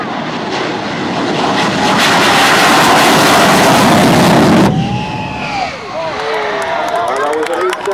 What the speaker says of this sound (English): In just a second, he'll light the afterburners and release the brakes.